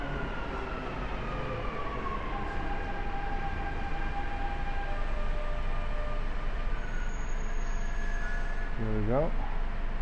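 Dubai Metro train in motion heard from inside a carriage, a steady loud rumble with whining tones drifting in pitch and a brief rising chirp near the end, with a short spoken phrase over it.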